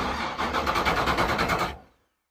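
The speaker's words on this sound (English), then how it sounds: "I guess we're firing it up." A small engine cranking with its fuel turned off, a rapid rhythmic chugging of the starter that runs for about two seconds and then stops abruptly into silence.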